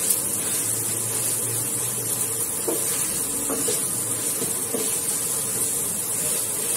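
Onions browning in a hot pan for chicken and potato curry give a steady, loud sizzle and hiss throughout, with a few soft stirring scrapes and a low hum.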